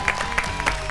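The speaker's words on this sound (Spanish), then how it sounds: "Un fuerte aplauso para Mica Vázquez y para Ezequiel Campa." Studio audience applauding game show contestants on a Spanish-language quiz show, a steady wash of clapping that stays loud for the whole second with small surges.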